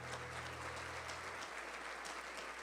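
A church congregation applauding during a sermon, a thick continuous rush of clapping that sounds distant and low in level, with a steady low hum underneath.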